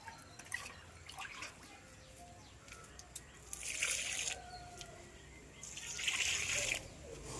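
Liquid fertilizer water poured straight onto potted plant roots, two bursts of splashing, gurgling flow between scattered drips and small trickles, close and fairly quiet with nobody speaking.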